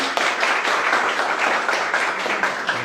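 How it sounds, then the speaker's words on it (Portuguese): An audience gives a warm round of applause to welcome a business administrator onto the stage, with dense, steady clapping filling about three seconds and no talking over it. "Vamos dar uma salva de palmas bem calorosa para ele."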